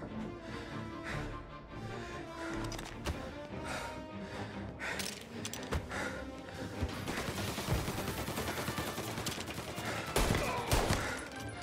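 Dense gunfire from a Mafia Definitive Edition shootout, rapid shots crowding together into a loud, continuous barrage that swells toward the end.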